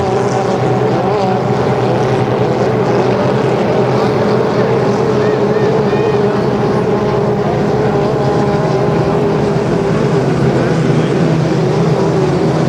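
2.5-litre racing boats in a heat at Long Sault: loud, steady droning engine roar with layered whining tones from several boats passing close, continuous throughout with wind buffeting the microphone.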